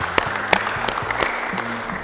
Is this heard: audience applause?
yes